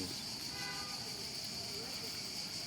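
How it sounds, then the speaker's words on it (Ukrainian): A train passes at a distance, a low steady rumble with a faint tonal hum running through it, heard outdoors at a resort park and audible without any talk. "там от поїзд той."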